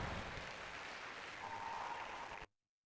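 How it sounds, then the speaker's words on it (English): A small crowd applauds at a university indoor rowing race in the North West, faint, steady clapping in a large hall that lasts about two and a half seconds before stopping abruptly. "A big round of applause there for the girls racing."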